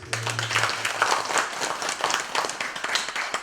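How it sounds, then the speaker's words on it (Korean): Audience clapping in a steady, dense wash of applause at a Buddhist memorial tea ceremony at a temple in Gimje, Korea, moderately distant and sustained throughout. "우리 큰 스님들에게 감사하다는 박수를 한 번 더 보내주셨습니다"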